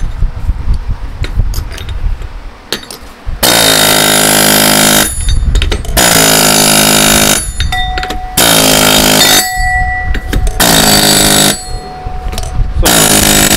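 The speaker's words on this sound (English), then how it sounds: "This thing doesn't always smash these big ore chunks as nicely as I'd like." A rock crusher smashing big chunks of gold ore from an abandoned gold mine, with loud grinding, clattering bursts in several long stretches separated by shorter pauses of quieter background noise.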